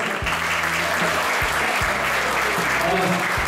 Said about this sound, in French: Vous applaudir.